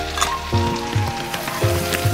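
Capsicum, tomato and chopped onion frying in a hot pan, giving a steady close sizzle with a few louder bursts of spitting and stirring scrapes, no voices.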